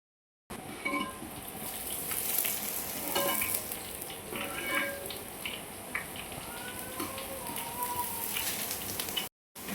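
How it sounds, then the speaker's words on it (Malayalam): Loose batter dropped through a perforated ladle into hot coconut oil for Kerala-style mixture, frying as small balls with a steady, close, crackling sizzle that runs unbroken for nearly ten seconds, with no voices. "വെളിച്ചെണ്ണ നന്നായി ചൂടായി വരുമ്പോൾ ഇതേപോലെ ഒരു അരിപ്പ പാത്രത്തിലേക്ക് നമ്മുടെ ലൂസായിട്ടുള്ള മാവ് ഒഴിച്ച് കൊടുത്ത് ബോൾസ് ഉണ്ടാക്കാം"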